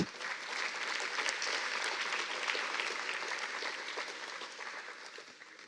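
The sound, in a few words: audience applause at a ceremony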